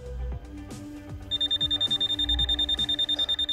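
Pen-type voltage tester beeping while checking three-way light switches, a rapid, steady series of high electronic beeps, close and clear, preceded by a few clicks.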